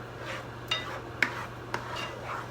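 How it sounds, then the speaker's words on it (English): Eggs being stirred and scrambled in a pan, a few soft scraping strokes with light utensil clicks against the pan over a low steady hum, close and fairly quiet. "stir it to scramble the eggs as they cook"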